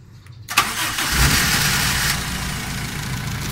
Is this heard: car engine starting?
yes